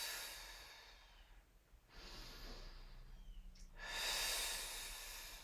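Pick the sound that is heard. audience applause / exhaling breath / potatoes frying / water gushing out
exhaling breath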